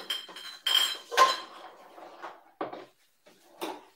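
Glass bottles and dishes are set into a dishwasher in a home kitchen during tomato canning, giving a series of close, sharp clinks and clatters. The impacts come in irregular bursts with brief pauses between them.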